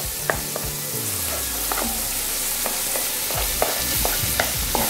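Onions fry in a pan of fried rice with salted fish, giving a steady sizzle while a utensil stirs and scrapes the pan with repeated knocks, heard close up with no talking.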